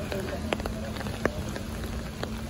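Steady, proper rain rather than drizzle falls during an outdoor walk on a rainy day, a continuous close patter with a few sharper drop hits and no one speaking.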